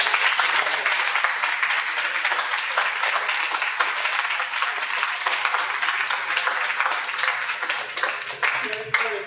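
Sustained audience applause at a Photoville photography event, a dense, even wash of many hands clapping for several seconds with faint voices under it, tapering slightly near the end.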